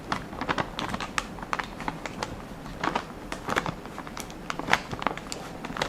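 A plastic slide sealer is pushed onto the folded top of a dry-ingredient bag, producing close, crisp plastic clicks and crinkles in quick irregular bursts.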